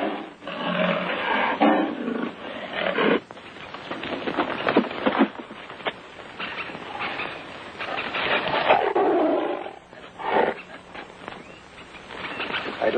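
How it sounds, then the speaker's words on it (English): A cornered tiger caught in a jungle trap growls and roars in loud, rough bursts that rise and fall almost without pause, with a thick noisy bed beneath and no talking. "Why, this is the growl of a cornered tiger."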